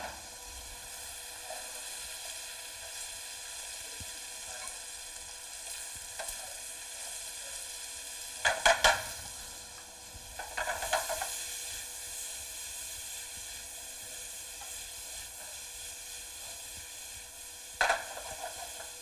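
Mixed vegetables, all added at once, sizzle in a pan with a steady, even hiss. A few louder bursts of crackle and scraping rise and fall along the way.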